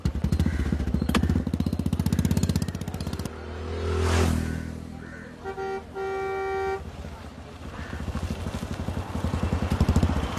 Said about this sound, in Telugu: ఆటో.